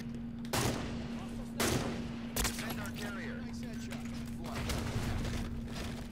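Rockets and gunfire in the shooter Halo 5, with several sharp heavy blasts breaking out over steady rattling weapon fire and game noise, all at a moderate, fairly even level.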